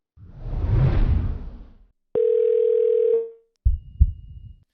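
A phone call placed to a local coin shop: a rushing swoosh, then a steady single dial-type tone lasting about a second, followed by short clicks and thumps, close and clear with no talking.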